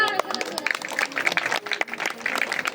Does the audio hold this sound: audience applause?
yes